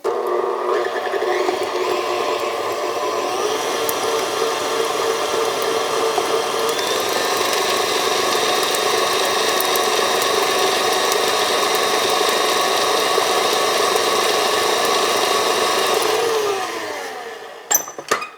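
A stand mixer with a paddle attachment churns Nutter Butter ball dough in a steady, close motor whir with a faint rhythmic knocking that runs evenly and then winds down near the end.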